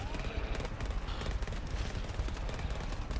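Automatic sentry turrets in GTFO fire at charging enemies in a steady, rapid stream of gunfire, loud and close, with no talking.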